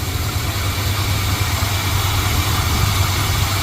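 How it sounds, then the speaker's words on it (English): A dually pickup truck engine idles with a steady, continuous low hum and rumble, carrying a grinding noise from the alternator or air pump, close and unbroken with no talk. "I'm hearing a grinding, not a dry bearing."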